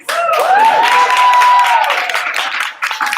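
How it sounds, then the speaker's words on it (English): Audience applause at an International Women's Day information session, a short burst of clapping from a room with a whistle or cheer ringing over it. "give them a round of applause"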